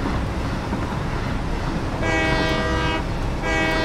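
A train in the Satisfactory video game rumbles steadily along the track, and its horn sounds twice in short bursts over the continuous rolling noise.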